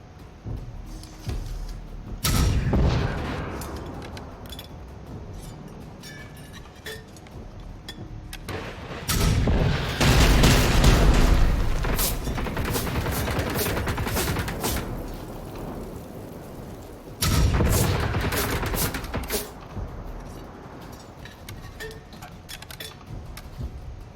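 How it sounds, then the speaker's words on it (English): Heavy explosions and gunfire from a live-streamed video game with tanks firing rockets come in three loud booming bursts, each followed by rumbling clatter and debris, with no talking. "I got the freaking tanks shooting rockets at me."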